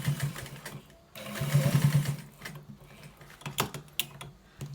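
Sewing machine stitching a welt pocket, running in short bursts of fast, even mechanical stitching with pauses between, close and fairly loud with no talk over it.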